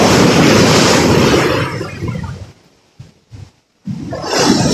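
Strong sea waves surge and crash in a loud roaring wash mixed with heavy wind buffeting the microphone, then drop into brief near-silent gaps before the roar returns.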